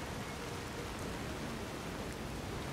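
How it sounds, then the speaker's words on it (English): Rain falls steadily in a cold, dreary town in the video game Skyrim Special Edition, a dense, even hiss of downpour that holds unchanged throughout, with no speech. "It's cold. It's rainy."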